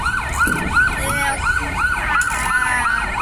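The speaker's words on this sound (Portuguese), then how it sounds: "Ai, vem a ambulância." An ambulance siren wails in a repeating up-and-down sweep, loud and close near a town square, continuing steadily throughout without talk.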